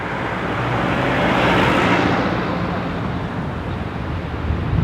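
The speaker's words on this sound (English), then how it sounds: "let's try and cross this Ulaanbaatar rush hour traffic" Rush-hour street traffic in Ulaanbaatar, Mongolia: a loud, continuous roar of passing cars and engines, swelling as vehicles pass close by and then settling into a dense, steady wash.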